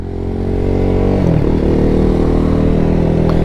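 A BMW G310R motorcycle, a 300-class single, idles loudly close by and then blips its throttle into a short rev that rises and settles back, with no talking.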